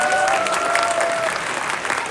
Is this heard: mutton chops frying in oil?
no